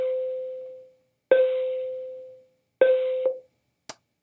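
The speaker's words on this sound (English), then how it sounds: "Sorry, school bell." A school bell rings as an electronic chime: three sustained, ringing tones, each fading slowly, with no talking, then a short sharp click at the end.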